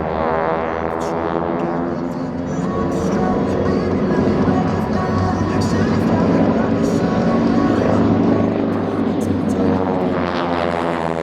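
Several T-6 Texan propeller trainers of an aerobatic team roll together in tight formation at an airshow, their radial engine drone steady and loud throughout with crowd or commentary noise mixed in.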